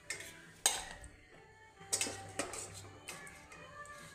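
Cooked malai chicken kofta curry is moved into a serving vessel in a home kitchen, giving a few quiet, sharp metallic clinks and knocks of a utensil against cookware, spaced irregularly with soft stirring scrapes between.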